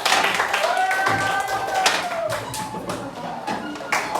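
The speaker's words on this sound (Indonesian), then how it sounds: "Tepuk tangan." Students in a classroom clap their hands in a lesson cheer, sharp separate claps landing in a loose rhythm, with children's and a teacher's voices sounding between and over them.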